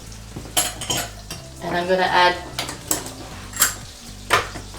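Melted butter sizzles in a frying pan as a béchamel sauce is started, with utensils clinking and scraping against the pan in short bursts and a brief spoken phrase over the top.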